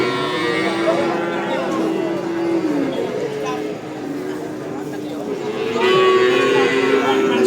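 Simmental bull calves lowing at the Jatirogo cattle market: repeated drawn-out moos close by over crowd chatter, with people talking throughout.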